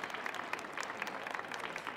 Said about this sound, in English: Let's give these two ladies a round of applause this morning